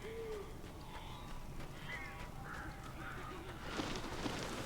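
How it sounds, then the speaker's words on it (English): Birds calling in the horror game Alan Wake, a series of short warbling, squawking cries scattered over a dark ambient background, growing into a louder flutter of noise at the end. "These birds are weird."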